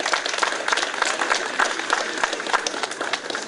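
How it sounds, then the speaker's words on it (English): An audience at a debate applauds, a dense patter of clapping hands at moderate distance that holds steady for a few seconds. "So give him a round of applause."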